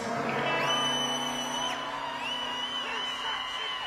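A huge stadium concert crowd at a rock show screams and cheers together in a steady, dense roar, with a few whoops rising above the mass of voices and no speech.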